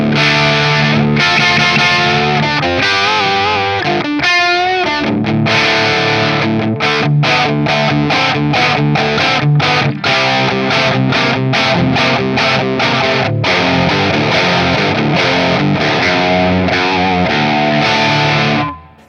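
A Schecter Solo II Apocalypse guitar, bridge pickup, through channel 2 of a Mezzabarba amp, plays a loud high-gain heavy classic rock riff, with dense distorted chords, chugging palm mutes and sustained notes throughout, with no talking.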